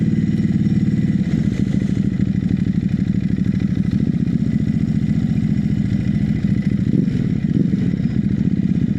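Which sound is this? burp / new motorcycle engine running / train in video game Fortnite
new motorcycle engine running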